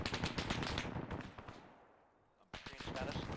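A heavy gun fires in a military video game, rapid bursts ringing out before fading to a near lull, then returning loudly, with voices talking over it.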